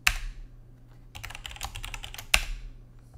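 Keys clack on a computer keyboard as a Linux terminal command is typed, a sharp keystroke, a quick burst of close clicks, then another loud key press.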